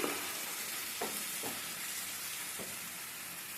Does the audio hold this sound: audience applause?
no